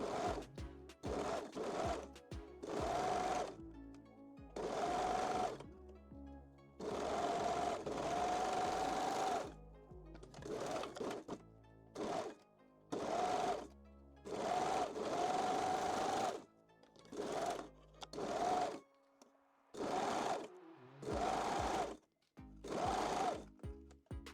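Sewing machine stitching a foam cup bralette with lace and lining, running in repeated bursts of rapid mechanical whirring separated by short pauses, close and clear, with no talking.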